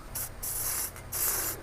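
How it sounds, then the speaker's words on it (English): Aerosol spray paint hissing onto a waterproof gear-stowage bag being painted black for a Hobie kayak, in three close bursts of steady hiss with brief pauses between them. "So I'm gonna go spray paint this thing black"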